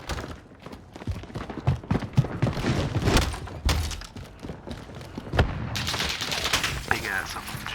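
Sustained automatic fire from an RPK machine gun in a video game, dense bursts of shots with thuds running throughout, with voices talking underneath.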